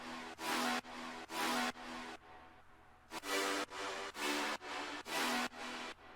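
Melodic synth stabs from an electronic track, bright and punchy, hit in a steady repeating rhythm of short chords separated by brief gaps, with a slightly longer pause midway.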